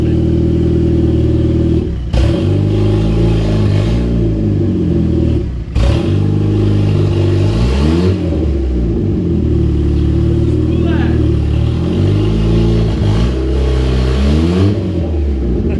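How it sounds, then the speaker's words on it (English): Boosted turbo Mazda Miata engine with an open downpipe revving in repeated rising and falling bursts, loud and close, with people talking over it. "open downpipe turbo Miatas are like the best thing ever"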